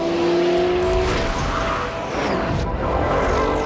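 An Audi race car at speed on the Hockenheim track, a loud continuous engine roar with tire squeal and shifting pitch as it drives close by.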